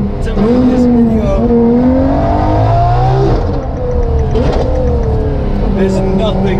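A Ferrari LaFerrari engine revs hard during rally driving, a loud, steady, close roar with rising and falling pitch sweeps throughout.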